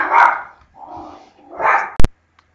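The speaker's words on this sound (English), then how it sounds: "That was just our dog, who really just went nuts." A household dog barks three times, loud and close, in rapid uneven bursts, followed by a sharp click, with quiet between.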